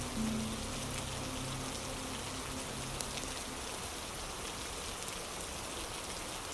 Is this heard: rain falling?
yes